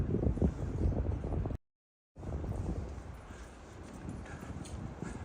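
A horse led by a man along a Tokyo backstreet, hooves clip-clopping in a steady rhythm outdoors under wind noise, broken by a brief silent gap.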